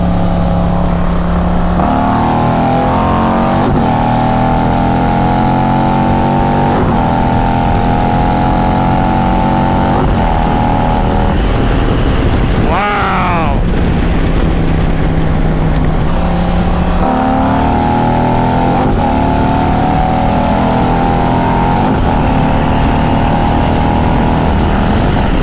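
Harley-Davidson CVO ST and BMW K1600 B motorcycles accelerating hard, engines climbing steadily in pitch through repeated gear changes, with one brief sharp whoosh midway as a rider hits the rev limiter; loud and continuous with no talking.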